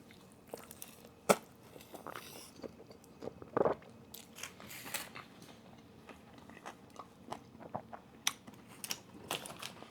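Biting and chewing on Five Guys food dipped in spicy jalapeno queso, with close, crunchy bites and softer chewing scattered across the stretch and no talk.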